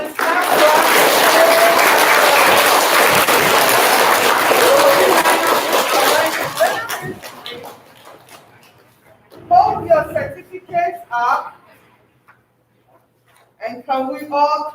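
An audience at a fourth-grade school event claps in a loud, dense burst for about six seconds, then the clapping fades out and scattered voices take over.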